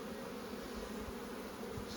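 Buckfast honey bees humming loudly and continuously during a hive inspection, a dense, even drone close at hand with no pauses.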